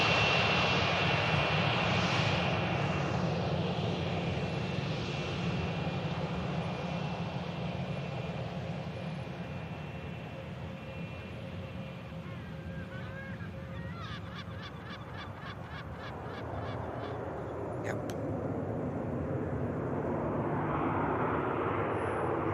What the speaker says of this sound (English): One Embraer of Logan Air and an ATR next to touchdown